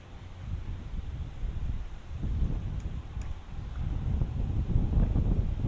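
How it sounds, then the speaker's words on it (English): A morning breeze blows steadily outdoors as broadband wind noise rumbling against the microphone, growing a little stronger toward the end, with no one talking. "Quite a breeze coming in this morning."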